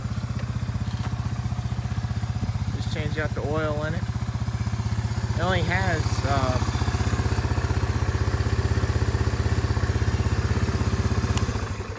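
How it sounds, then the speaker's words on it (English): A Suzuki Eiger 400 four-wheeler with a carbureted engine idles nearby in a steady, even drone that runs the whole time, with someone talking over it. "It's running, idling fine."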